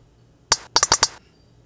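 Synthesized sperm whale clicks from a Max MSP patch, in a bassier voice: a sharp lone click, then a quick cluster of four bright clicks in close rhythm over near silence.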